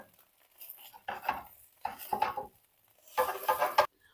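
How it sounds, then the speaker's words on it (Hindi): A metal spatula cuts through fried eggs in a pan, making three separate bursts of scraping and clinking against the metal with short quiet pauses between them, close and fairly soft. "और मैं इसी स्पैचुला की मदद से इसमें कट भी लगा लूंगी।"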